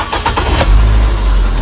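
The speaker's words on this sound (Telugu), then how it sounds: "ఇప్పుడైతే ఇంజన్ అయితే స్టార్ట్ చేద్దాం." A 2012 Nissan Sunny petrol car engine cranks with a few short starter bursts, then catches and settles into a steady low idle, heard close up with no talking.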